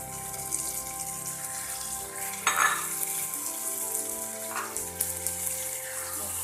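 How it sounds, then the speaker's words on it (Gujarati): Tomato puree hits hot oil in a pan of stuffed gunda gravy, giving a steady, close sizzle with soft stirring scrapes and two brief louder splutters. No one speaks. "હવે તેમાં ટામેટાની પ્યુરી એડ કરીશું"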